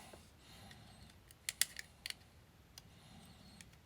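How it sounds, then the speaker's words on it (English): A knife scraping and cutting into hardened JB Weld epoxy on a glasses repair: a quiet run of short, sharp clicks and scrapes, close up, with a brief cluster of louder cuts in the middle. "So I'll see if I can cut it with a knife here."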